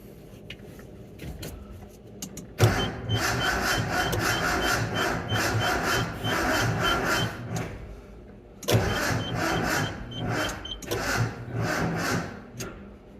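A Datsun 620 King Cab cranked with a flat-blade screwdriver in place of the key, two long bursts of rough, rhythmic starter churning separated by a pause, the engine failing to catch; close and fairly loud.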